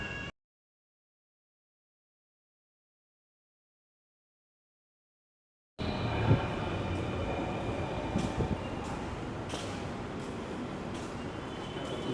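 A Dhaka metro rail train runs between Pallabi and Uttara North stations. Several seconds of near silence give way to a steady, fairly loud rumble and whoosh of the moving train, with no talking.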